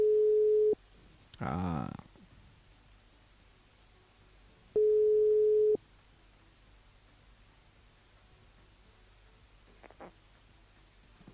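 A telephone ringback tone plays during a live radio call to a listener: two long steady beeps a few seconds apart over faint line hiss, with a brief noisy burst and a short vocal sound between them.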